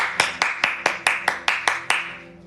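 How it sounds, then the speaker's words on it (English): Nine crisp, evenly spaced hand claps ring out at a moderate tempo, close and fairly loud, each with a short decaying tail and no talking in between. "I feel like we should clap it up."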